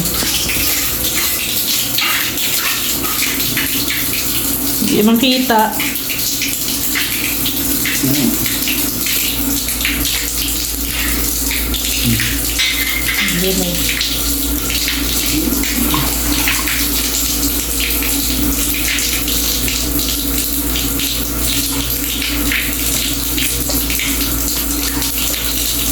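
Water runs hard onto a newly tiled bathroom shower floor fitted with two drains, a steady rushing flow lasting the whole stretch while people talk over it.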